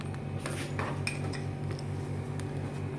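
Spoonfuls of sugar tipped into a mixer jar holding mango pieces, with a few light clinks of a spoon against the jar over a steady low background hum.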